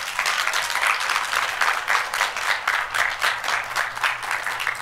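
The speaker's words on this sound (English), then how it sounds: "let's give them a round of applause." An audience applauds at a school completion ceremony at Archway Academy, a dense and steady wash of clapping from many hands that lasts the whole moment without a break.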